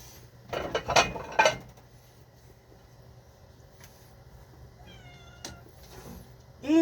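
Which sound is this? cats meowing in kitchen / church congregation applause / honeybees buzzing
cats meowing in kitchen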